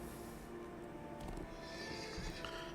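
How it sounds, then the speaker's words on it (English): Horse whinnying with hoof clip-clop in Dungeons and Dragons Online, a Halloween event mount, heard as a quiet, steady in-game layer with a neigh near the middle over constant background ambience. "At least I have my Halloween horse."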